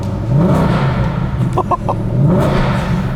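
A supercharged V8 car engine revs up and falls back in steady, loud waves, its low rumble rising and dropping twice, with a brief mechanical clatter in the middle.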